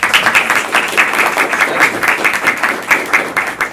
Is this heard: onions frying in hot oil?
no